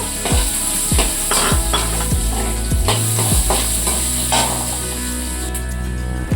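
Asafoetida, onion and curry leaves sizzle loudly in hot oil for a Kannada okra gojju, with a spoon scraping and knocking rhythmically against the pan over the bright, continuous frying hiss.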